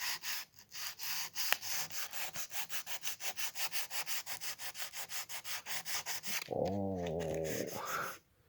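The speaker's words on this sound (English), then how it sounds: "So I'm gonna start sanding with a 600." Carbon fiber being sanded by hand with 600 grit sandpaper, a close, rhythmic back-and-forth scrape of about two strokes per second, ending in a longer rougher rub before stopping.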